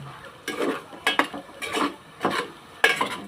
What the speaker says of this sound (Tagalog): Haluin muna natin guys. Bago natin takpan.